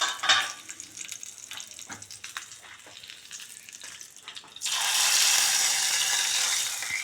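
Hot mustard-seed tempering pours into a pot of curry: scattered soft crackles and clinks, then a sudden loud, sustained sizzling hiss that holds steady to the end, close by and without speech.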